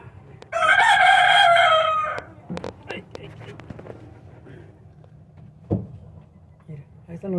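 Chickens in a laying-hen coop: a loud, drawn-out crow rings out near the start, followed by scattered soft clucks, knocks and rustling at close range.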